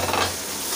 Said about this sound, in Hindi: तो यहाँ पे 4 से 5 मिनट इसका फिर भुनाव कर लेते हैं टमाटरों को।